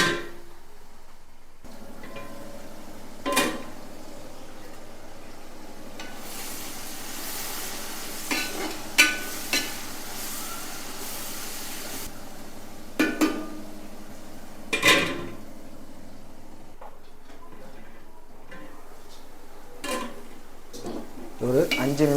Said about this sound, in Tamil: இதை க்ளோஸ் பண்ணி இந்த ஆனியனை வதக்கி எடுத்துக்குவோம்.